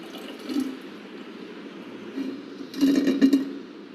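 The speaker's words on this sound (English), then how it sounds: "Now we will measure water quantity." Water poured into a measuring container in a cement test lab, with short trickling bursts early on and a louder, longer pour near the end, close and alone.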